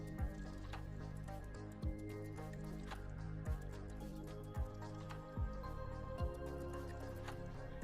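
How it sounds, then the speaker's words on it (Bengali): Semolina batter for pua pitha is stirred with warm milk in a bowl, producing soft wet squishing and regular thick liquid plops roughly every second, close and quiet. "এবার সমস্ত উপকরণ ভালো মতো মিশিয়ে নেব"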